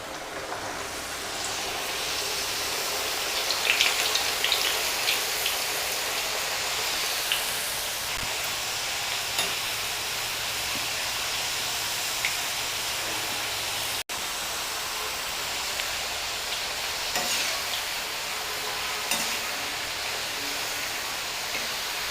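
Dried potato slices fry in hot oil for homemade chips, giving a dense, even, loud hiss that holds steady throughout with a few faint crackles and no talking.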